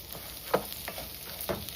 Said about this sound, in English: You can hear it sizzling much, much quicker if you do it this way.